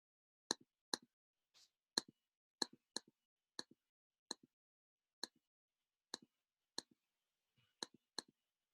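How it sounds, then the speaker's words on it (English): Calculator keypad buttons pressed one at a time during an arithmetic calculation, a dozen or so crisp, close, quiet clicks at an uneven pace with short pauses between them, and no talking. "Type in the calculator."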